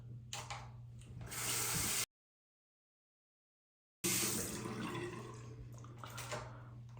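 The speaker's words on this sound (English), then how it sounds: "let me wash up the razor, let me wash up the face one more time" Tap water runs steadily as a razor is rinsed and a face is washed, a close, hissing splash interrupted by a two-second gap of silence before the flow resumes.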